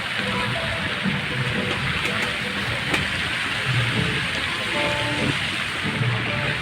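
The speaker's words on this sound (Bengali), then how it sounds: "ঝর্নার কৃত্রিম রিমঝিম শব্দ" Water patters and splashes steadily from an artificial fountain in a Malaysian flower garden, a continuous bright spray with no break, close by.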